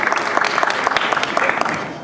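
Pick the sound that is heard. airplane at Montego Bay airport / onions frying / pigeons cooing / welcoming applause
welcoming applause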